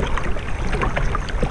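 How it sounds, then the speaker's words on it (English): A Pipedream RC powerboat engine runs with its propeller shaft spinning, the shaft loose: a brief, close, steady buzzing drone with watery, breezy outdoor noise. "Shaft spinning on the engine."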